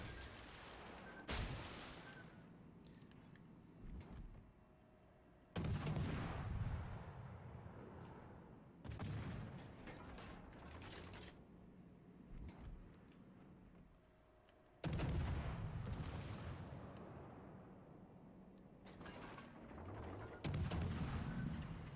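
Naval artillery salvos in the World of Warships game, several heavy booming volleys at irregular intervals, each a sharp loud blast followed by a long rumbling decay over a low background hum.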